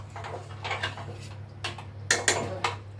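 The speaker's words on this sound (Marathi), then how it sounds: "खाली चिकटू नाही म्हणून चांगलं ढवळून घेते." A spoon scrapes and clinks against a pressure cooker pot while a spiced masala mixture is stirred so it won't stick. The taps are irregular and close, with a couple of sharper knocks near the end over a low steady hum.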